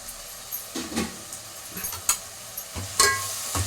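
Rice and tomatoes cook in a pot for mutton biryani, a moderate sizzle with several clattering stirs and scrapes at irregular intervals.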